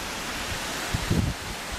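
Steady wind roars through a huge eroded landslide gully beneath Monte Antelao in the Dolomites, a broad continuous rush with a few faint low thumps, no voices.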